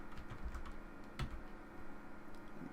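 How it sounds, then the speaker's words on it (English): Soft keystrokes on a computer keyboard while entering a spreadsheet formula, a handful of close, faint taps with one firmer press partway through, over a quiet room hum. "I'm going to type AND."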